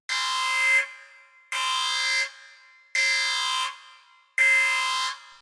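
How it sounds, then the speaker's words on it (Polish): An alarm siren signal from a mystery video game sounds four times in a regular pattern, each loud, buzzing blast lasting under a second and followed by a short decaying tail and a gap of silence. "Syrena alarmowa."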